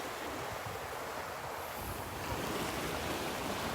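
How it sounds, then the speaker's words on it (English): Ocean waves breaking on a Gulf beach at Delnor-Wiggins in the morning, a continuous rushing wash that surges louder midway, mixed with some wind noise, with no talking. "You can see like a glow in the waves as they come at you."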